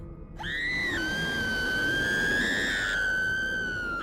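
A long, sustained female scream from the video game What Remains of Edith Finch rings out loud and steady, holding its pitch for several seconds with a slight shift midway, alone without speech.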